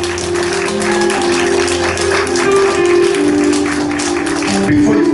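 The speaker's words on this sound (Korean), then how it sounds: "우리 주님께 감사의 박수 한번 올려드립시다" A church congregation claps in thanks during a revival service, a steady wash of applause running the whole clip beneath sustained keyboard or organ chords.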